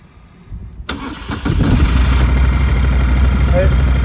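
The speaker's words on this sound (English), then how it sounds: "Let me get the bike started up and you can hear how she sounds." A 2015 Moto Guzzi Norge 1200 GT motorcycle starter whirs, then the engine catches and settles into a loud, steady warm-up idle close by, with a faint whine over the rumble.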